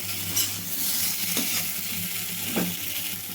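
Leftover idli pieces stir-fried on high flame, a steady broadband sizzle of frying with two soft scraping stirs of a spoon across the pan.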